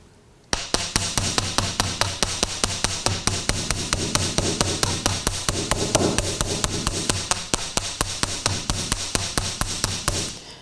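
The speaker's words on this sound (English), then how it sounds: "Now don't be afraid to hammer it pretty hard" A hammer strikes copper jewelry on a metal bench block in a fast, even series of about forty sharp ringing blows, loud and close, with no talking.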